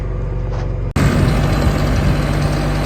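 A tractor engine idles with a low, steady rumble, cutting abruptly partway through before resuming with a fuller, louder, close-up drone.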